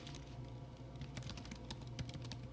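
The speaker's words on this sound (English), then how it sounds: "I am going to type" Rapid keystrokes on a computer keyboard clatter steadily and close, with irregular clicks continuing alone for a couple of seconds.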